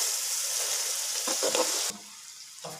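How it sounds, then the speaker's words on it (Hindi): Spices frying with yogurt in a pan for chicken pulao, a bright steady sizzle with a few stirring scrapes, then quieter sizzling after a sudden drop. "इसको अच्छी तरह भूनते हैं।"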